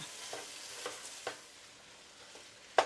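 Quiet, steady sizzling of meat in a pan, with a few soft taps and scrapes as the meat is broken up, ending on a sharper clack.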